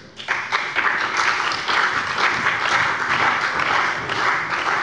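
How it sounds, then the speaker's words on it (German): Steady applause from a large crowd in a parliament plenary session, sustained and fairly loud for several seconds with no talking over it. "Applaus"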